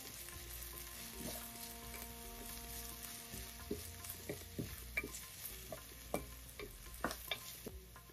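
Salted onions fry in a pan for a spicy chicken liver dish, with a steady soft sizzle broken by a run of clicking spoon strokes as they are stirred, close but quiet.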